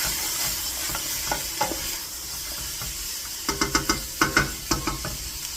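Vegetable soup being stirred in a pot, with a soft steady simmering hiss under a series of distinct scraping and knocking strokes of a utensil against the pot, bunched closely near the end.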